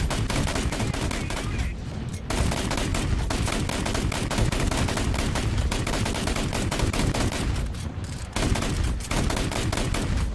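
Rapid bursts of VEAK 40 self-propelled anti-aircraft gunfire in War Thunder, loud and close, firing in long sustained volleys with brief pauses around two and eight seconds.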